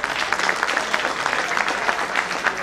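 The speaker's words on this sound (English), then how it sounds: "So ladies and gentlemen, a huge round of applause." A crowd at a corporate event claps in a sustained, even round of applause, with rapid overlapping claps from many people throughout and no voices on top.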